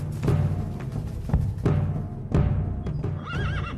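Armored conquistadors' horses neigh and whinny loudly while hooves clip-clop in a steady, close rhythm, with a shrill high whinny rising at the end.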